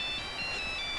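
A cell phone ringtone plays as a steady, bright electronic tone that holds level without pause, loud and alone with no talking.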